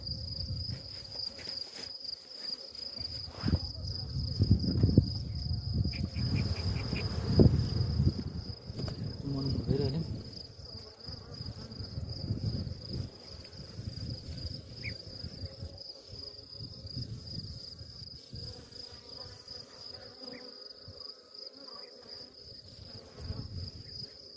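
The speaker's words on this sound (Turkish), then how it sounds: "Çünkü saldırmaya başladı arı." Honey bees buzzing around a beekeeper at the hive as they begin to attack, a steady close droning hum with a thin high whine, rising and falling in loudness, with no talk.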